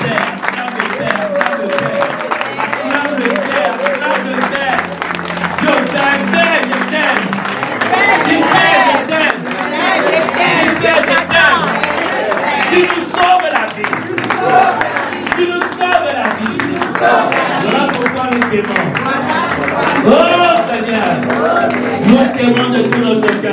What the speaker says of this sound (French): Lève-toi, tu acclames bien Jésus.